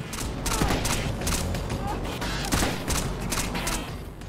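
Repeated gunfire in Rainbow Six: Vegas 2, rapid volleys of sharp shots cracking in a fast irregular rhythm throughout, loud and close, with a player's voice talking over the shooting.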